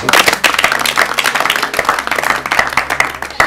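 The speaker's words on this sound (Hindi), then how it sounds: "इनके लिए ताली बजाइए" Studio audience at an Urdu literary quiz show clapping for a contestant who answered correctly: dense, steady applause of many hands, loud and close, filling the moment without talk.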